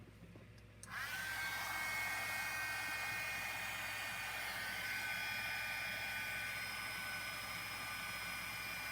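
Heat embossing tool switching on and heating up during card making, a steady hair-dryer-like whoosh of blowing air that starts abruptly and holds constant, close and alone.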